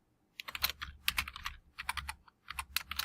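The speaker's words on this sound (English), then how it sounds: "I'm going to go ahead and just type in a title for this." Title text being typed on a computer keyboard, quick bursts of close, crisp keystrokes separated by short pauses, heard alone in a quiet room.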